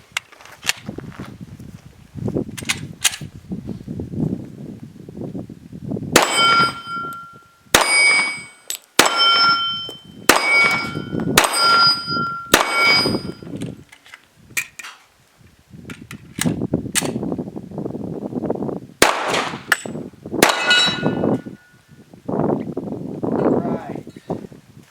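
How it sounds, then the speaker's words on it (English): A Glock 36 pistol fires 12 rounds of Blazer ammunition at a range, a string of loud, sharp reports with ringing metallic clangs. The shots come in uneven bursts separated by stretches of talking or rustling between groups. "This is going to be 12 rounds of Blazer with the Glock"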